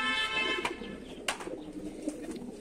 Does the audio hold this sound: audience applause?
no